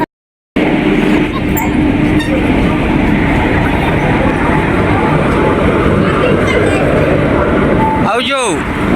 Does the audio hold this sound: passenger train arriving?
yes